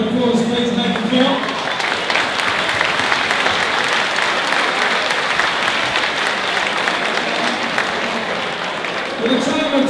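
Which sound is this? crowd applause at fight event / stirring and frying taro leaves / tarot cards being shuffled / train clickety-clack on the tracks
crowd applause at fight event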